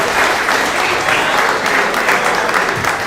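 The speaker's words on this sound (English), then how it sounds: "Give them a round of applause, and for Coach" A round of applause for high school boys' ice hockey players and their coach during a live school broadcast, with a dense, even clapping crowd close by and no talking over it.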